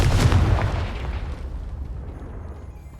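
A Confringo spell explodes in a Harry Potter video game as a heavy, booming blast right at the start, its deep rumble slowly fading away over a few seconds.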